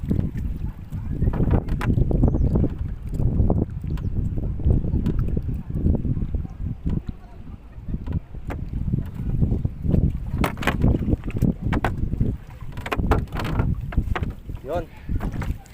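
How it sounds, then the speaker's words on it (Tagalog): Strong sea wind buffets a fishing boat, roaring and gusting in uneven surges with heavy low rumble from start to finish, and no clear voices. "Lakas ang hangin guys."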